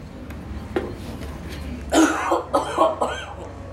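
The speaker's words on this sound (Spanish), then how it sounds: "Vamos a toser fuertemente y la flema que despeguemos desde los pulmones" A patient with suspected tuberculosis coughing hard to bring up sputum from the lungs for a sample, a few close throat-clearing coughs in quick succession after a quiet start.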